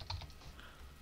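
Several quick, soft key clicks from a password being typed on a computer keyboard, close by and fairly faint, in an uneven patter with no talking.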